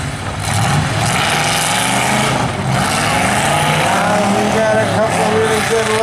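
Pickup trucks starting a demolition derby at the Six Nations Fall Fair, their engines revving loudly together in a dense, rising roar as they pull off, while a voice talks over the noise.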